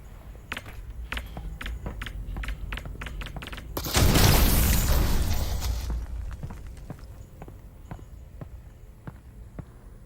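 A single grenade explosion in Half-Life: Alyx, a loud roaring burst lasting a couple of seconds that fades out, set among steady rhythmic footstep-like taps and game ambience.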